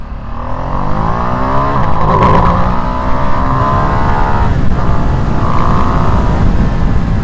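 A 2025 Ducati Streetfighter V2S motorcycle with 120 brake horsepower accelerates hard on a road, its engine note close and loud, climbing and pulsing steadily throughout with no talk over it.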